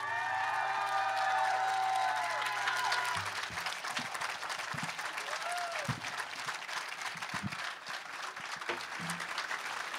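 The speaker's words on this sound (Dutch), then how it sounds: "Mag ik een groot, overweldigend applaus voor mevrouw Hanne Rosius." Big, overwhelming applause with cheers for Hanne Rosius at the Teacher of the Year 2022 award, a dense roar of clapping from a crowd that carries on throughout, with musical tones fading out early on.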